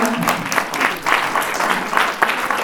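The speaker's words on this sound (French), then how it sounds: "vous avez raison, vous pouvez vous applaudir" Conference audience applauding steadily, a dense wash of clapping at close range throughout with no pauses.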